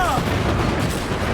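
Cannon fire from a sailing ship in the Assassin's Creed Black Flag video game, a dense, continuous rumble of booming blasts filling the whole clip, with game voices talking over it.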